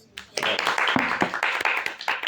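A small group breaks into steady, dense clapping for a talented young child at a gathering, starting after a brief pause and continuing under some overlapping voices.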